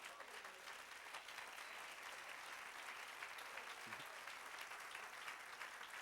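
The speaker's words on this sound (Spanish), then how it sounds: "Dale otro aplauso al Señor" A church congregation applauds during a sermon, a steady, even roar of many hands clapping that sounds faint and somewhat distant, continuing unbroken throughout.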